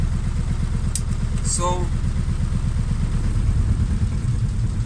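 An engine with a newly changed thermostat idles without load, its even, rapid, low chugging pulse running steadily throughout, while someone speaks briefly over it.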